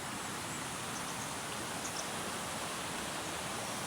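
Water flows steadily near a bridge, a constant faint broadband rush with no distinct events and no voices.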